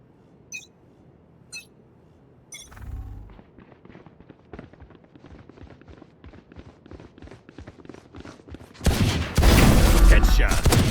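Pistol gunfire in a video game, a quick run of sharp shots rising into a dense, loud burst near the end, after a few short game sound effects at the start.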